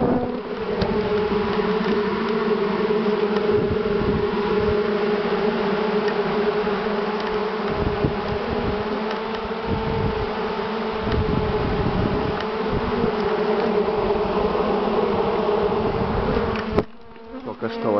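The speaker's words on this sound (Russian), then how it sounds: "с помощью дыма мы выгнали пчел с этих кустов, с корчев" A swarm of bees, smoked out of bushes and tree roots in the first swarm of the season, hums in a dense, steady buzz that fills the air close by without pause, with a brief disturbance near the end.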